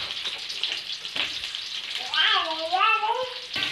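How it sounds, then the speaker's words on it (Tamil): Curry leaves and onion sautéing in hot oil for mango thokku, a steady close sizzle that swells louder midway, with a voice talking over the latter half. "அதுக்கப்புறம் கருவேப்பிலை, வெங்காயம் இது எல்லாமே போட்டு எண்ணெயில் வதக்கிக்கோங்க"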